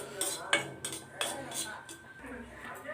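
Cashews and raisins being stirred in a pan for milkmaid pal payasam, a few clinks and scrapes of a spoon against the metal, close and moderately loud, with faint background noise.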